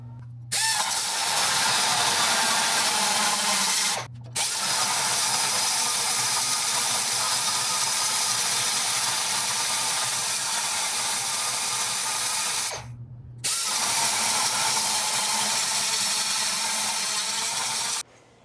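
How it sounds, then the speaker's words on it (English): A grinder works down a C-notch bracket on a truck frame rail, a loud, sustained harsh whine running in long continuous passes broken by two short pauses. "we need to grind this bracket down to get the pocket to fit flush against this back wall"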